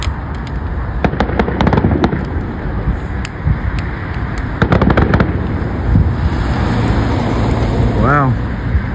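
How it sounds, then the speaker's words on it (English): A large fireworks show bursts overhead with a rapid string of sharp cracks and booms, some distant and some close, a whistling rocket rising near the end, while spectators chat in the background. "That's one of the best fireworks shows we've seen so far"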